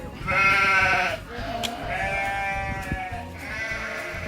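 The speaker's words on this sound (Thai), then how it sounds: "โอ้ตรงนู้นมีแพะด้วย" Goats at a countryside farm-style cafe bleating, two or three long wavering bleats close by, the first loudest, over faint outdoor background with no speech.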